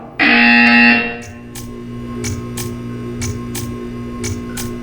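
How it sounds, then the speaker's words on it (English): Harsh buzzer in the video game Portal 2, one loud sustained blast that cuts off after about a second, followed by a low electronic hum with faint rhythmic clicks. "You will hear a buzzer."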